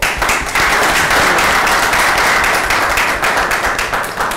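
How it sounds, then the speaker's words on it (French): A large crowd applauds steadily, a dense wash of clapping that stays loud and even throughout. "Merci d'applaudir pour elle encore."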